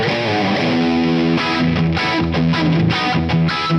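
An electric guitar plays a distorted rhythm riff through room reverb and a touch of delay, with held chords giving way to choppy, repeated strums, loud and close.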